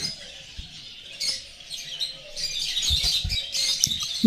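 Many caged small birds, including lovebirds, chirp and twitter together indoors at a bird farm, a busy chorus of high tweets with faint fluttering and rustling nearby.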